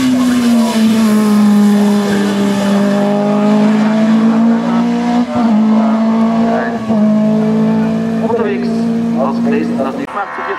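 A race car in the up-to-2000 cc class launches from the start of the St. Agatha hill climb, its loud engine droning steadily and climbing through gear changes over about ten seconds while a commentator talks throughout.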